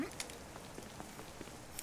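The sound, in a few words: rain in the video game Baldur's Gate Dark Alliance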